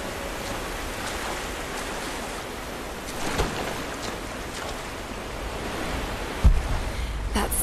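Rushing water held back by a sluice gate in the video game Rise of the Tomb Raider, a steady broad wash of water noise with a couple of dull thumps near the end.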